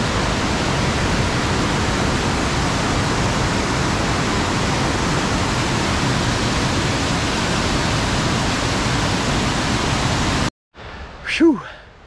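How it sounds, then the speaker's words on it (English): Blue Hole Falls near Elizabethton, Tennessee, roars loudly and steadily as water pours over rock at close range. The dense rushing continues without a break until it cuts off near the end, leaving a brief breathy exhale. "I hope you can even hear me over the roar of this water."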